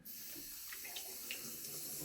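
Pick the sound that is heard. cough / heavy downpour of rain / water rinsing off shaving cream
water rinsing off shaving cream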